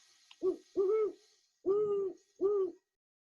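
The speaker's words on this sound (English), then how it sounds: "so that's the classic owl noise." A great horned owl gives four deep, resonant hoots in a steady rhythm, each one clear and close with short pauses between, alone against a quiet background.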